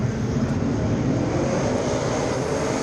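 Dirt track race cars in an A-main feature roar together at a restart, a dense, steady engine drone that holds loud and constant throughout.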